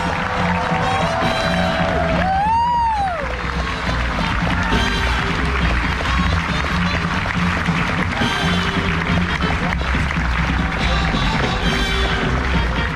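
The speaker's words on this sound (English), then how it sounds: "Let's give him another big cheer." Onboard a cruise ship, an audience cheers and claps for a performer over loud music, with whoops and a crowd roar layered under a steady musical backing.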